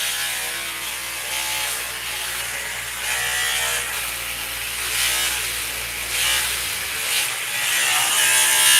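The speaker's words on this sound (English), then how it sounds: "It's just best to stay going in the same direction while you're trimming your beard." An electric trimmer buzzes continuously while cutting through a beard, a close, steady high-pitched whirring hum that shifts slightly in tone as it moves along the face.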